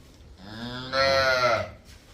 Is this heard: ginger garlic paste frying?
no